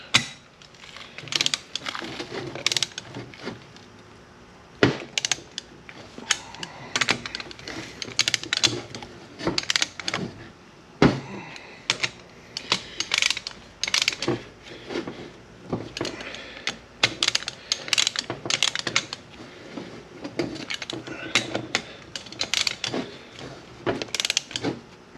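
Torque wrench tightening the transmission bolts of a Ford 5R110W in a star pattern, set to 23 foot-pounds: a long run of close, sharp mechanical clicks and ratchet ticks in irregular bursts, with no talk.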